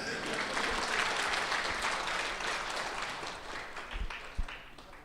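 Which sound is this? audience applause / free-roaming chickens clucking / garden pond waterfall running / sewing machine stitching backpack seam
audience applause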